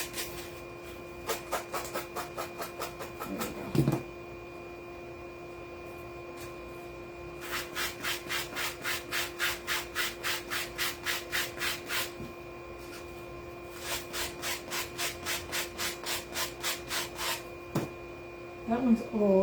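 Rhythmic back-and-forth scraping of a sanding block on wood, several bursts of quick regular strokes separated by short pauses, with a steady faint hum underneath.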